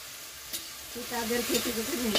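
Shrimp being stirred in a hot frying pan, a brief clatter followed by scraping and bubbling sizzle from close up, with faint household background.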